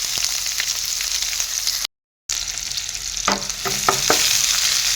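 Sliced onion and raw green chilies sizzle steadily in hot oil for a fish curry, a dense close hiss with a brief dropout midway, then a few quick clinks of a spoon stirring the pan near the end.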